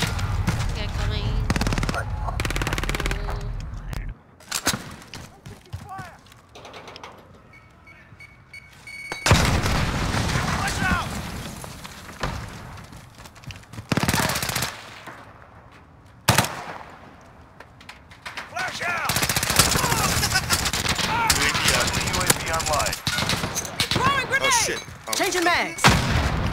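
Heavy machine gun fire in a shooter video game, with long loud bursts broken by short pauses and sharper single shots and booms. The firing is close and continues throughout, with players talking in between.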